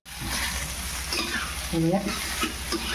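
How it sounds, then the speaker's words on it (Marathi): Boiled potato being stirred in a frying pan on a gas stove while making bread pakoda, with a steady close sizzle of frying and scraping strokes of the spoon that grow louder toward the end, no voices. "आपल्याला हा बटाटा उकडलेला आहे तो टाकून घ्यायचा"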